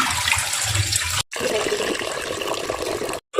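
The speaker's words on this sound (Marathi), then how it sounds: "चांगलं धुवून घ्यायचं आहे 2-3 पाण्याने" Running water splashes steadily from a tap as soaked lentils are rinsed in a large vessel, a close, continuous gush broken by two brief pauses.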